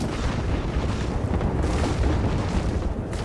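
Artillery barrage from Bangalore's ultimate in Apex Legends: loud, sustained low booms rolling into one another with a thick rumbling texture, unbroken for several seconds and with no talking.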